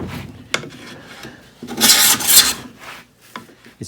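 Hand plane taking one even stroke along a wooden board, producing a close, loud rasping cut that swells and fades over about a second, surrounded by quieter scrapes and taps.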